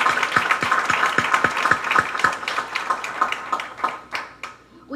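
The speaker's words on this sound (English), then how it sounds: "Now let's just give our award recipients another round of applause for their exceptional performance." Applause for award recipients at a university white coat ceremony: scattered hand claps from a modest crowd, fairly close, thinning out toward the end.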